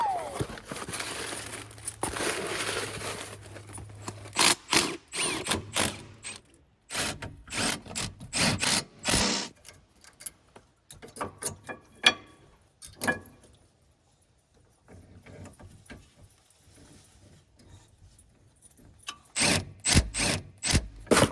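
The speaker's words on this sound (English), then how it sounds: "Then we gotta crack this here and take the caliper off and replace it" Brake caliper work on a Honda Element, with close metallic clicks, ratcheting and clanks of tools on parts arriving in irregular bursts separated by quiet stretches.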